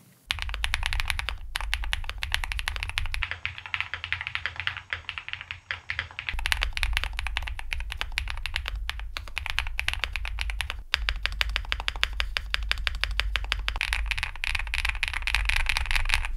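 Steady, continuous typing on a mechanical keyboard with an aluminium chassis, an AKKO SPR67, producing dense rapid clacks close up throughout with no talking.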